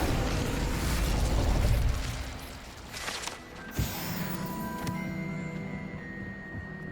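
Incendio fire spell cast in Hogwarts Legacy, a whooshing fiery burst that swells and fades, followed by a sharp pop and a mechanical clunk over ongoing game ambience and a faint tone.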